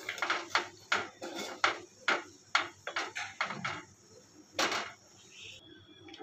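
A spoon stirs payesh with sugar in a pot, giving about a dozen short, sharp scraping strokes in an uneven rhythm against a quiet background.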